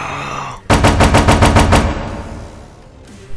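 Machine gun fire rips out in a loud, rapid burst of about seven evenly spaced shots lasting roughly a second, then trails off into a fading echo, with no voices over it.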